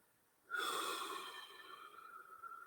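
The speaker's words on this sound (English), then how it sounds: "it's very likely you can hear me breathing" A deep breath is let out through the mouth in a quiet guided relaxation exercise. It is a single close, soft, airy exhale that starts suddenly and fades gradually.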